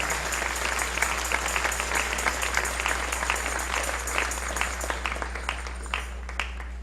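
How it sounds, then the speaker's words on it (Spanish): A church congregation claps during a morning service, dense rapid applause with a low steady hum underneath, continuing throughout at moderate level. "Dale un aplauso al Rey en esta hermosa mañana"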